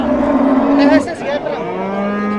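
A cow at a busy livestock market gives a loud, close moo lasting about a second, then a second lower bellow follows, with faint background chatter.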